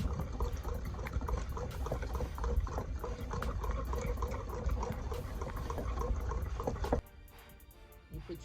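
A sauce being whisked together in a bowl for noodles, making a busy, continuous wet swishing and clinking that runs for about seven seconds, then stops abruptly, leaving a quiet room.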